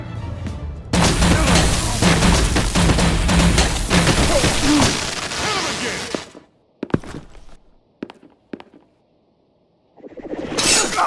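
Gunfire in the Batman: The Enemy Within video game, a loud sustained burst of shots and crashing impacts for several seconds, then scattered sharp isolated bangs and silence before a new loud sound begins.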